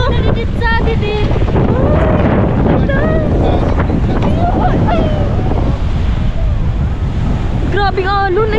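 Strong sea waves surge and crash against a pier, a loud continuous wash with wind buffeting the microphone throughout, while people chatter and exclaim over the roar.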